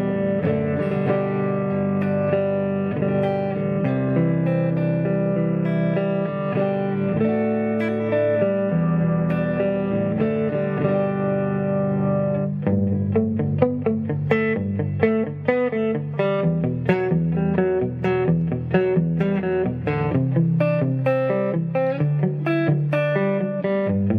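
A Fender Japan electric guitar on its neck pickup plays long sustained notes, then quicker picked lines with round, bouncy attacks, clean and close with no talking.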